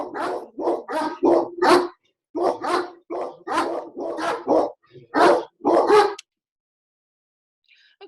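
Dogs bark close by in a rapid string of loud, repeated barks for about six seconds, then go quiet. No one talks over the barking.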